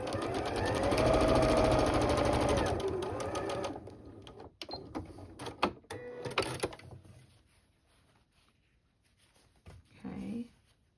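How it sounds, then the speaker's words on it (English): Quilt block patches are sewn on a sewing machine for a Bowtie Ballet block. A close, rapid mechanical whir runs for about three and a half seconds and then stops, followed by scattered handling clicks and a faint voice. "let's go ahead, I'll sew 1 together with you"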